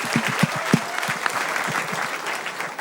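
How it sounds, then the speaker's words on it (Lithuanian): An audience applauds a contestant on a stage show, a sustained burst of clapping from a crowd in a room, fairly loud and even throughout with no speech. "Plojimais palaikykim Vaidotą Šiožinį."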